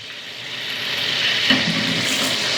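Cardamom and mustard seeds sizzle steadily in hot oil for tempering a wedding-style vathal kuzhambu, a broad close hiss that swells slightly midway with a few small pops, no talking.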